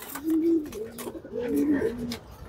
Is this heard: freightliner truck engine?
no